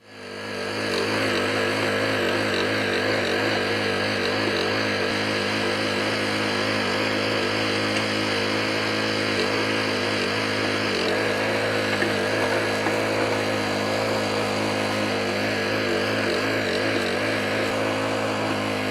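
A Mantis Deluxe mini tiller with a 4-stroke Honda engine runs steadily throughout, a loud, continuous buzzing engine drone with a constant pitch and no pauses or talk.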